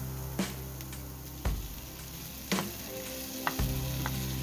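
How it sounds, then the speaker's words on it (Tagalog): Tomatoes sizzle and fry in a hot pan for Filipino ginisang monggo mung bean stew, a steady close crackle broken by periodic stirring scrapes and clanks. "Isayin ang kamatis hanggang sa lumambot din, maluto."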